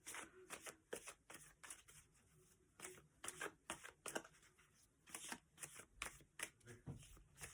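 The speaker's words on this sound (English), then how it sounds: "Another clarifying card, please, for the moon card, for on top of the moon." Tarot cards being shuffled in quick, soft riffling bursts that repeat steadily throughout, close and fairly quiet, with no speech over them.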